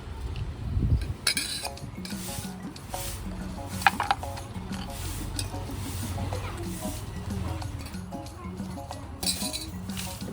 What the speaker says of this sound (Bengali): যাই একটু ভাত নিয়ে নেই প্লেটে। নাই ভাজি একটু নিয়ে নিই।